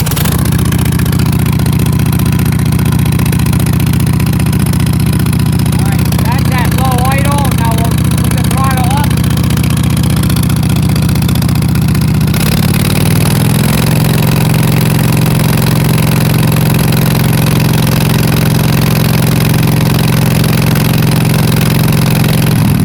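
A Toro Greensmaster mower engine runs loudly and close at a steady idle with a mechanical clatter, settling into a slightly different pitch partway through, and voices can be heard talking over it.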